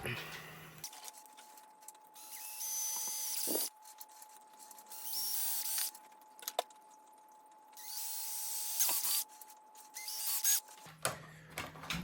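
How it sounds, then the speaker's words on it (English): A power drill whines in several bursts of a few seconds each, drilling holes in the plastic body of a Team Associated SC6.2 RC truck, separated by short pauses, with small clicks and handling noises between. "I'm going to drill these out"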